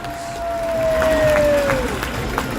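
Ice hockey arena crowd at a Frontenac Phantoms versus Barry's Bay Wolves league game cheering loudly and steadily after a home goal, a broad roar with a whistle-like tone sliding down underneath.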